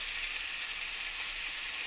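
Potatoes fry in a wok in hot oil, giving a continuous bright, close sizzle with no pauses and no talking.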